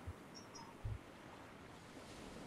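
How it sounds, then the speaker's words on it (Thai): Strong ocean waves in Stranded Deep wash and roar steadily under faint wind, with a low boat thump, heard from a small vessel out at sea, soft and continuous. "คลื่นแรงจัง"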